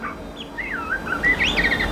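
An oriental magpie-robin, or murai batu, sings close by in a clear run of rising whistles and quick trilled notes, against a low background rumble with no talking.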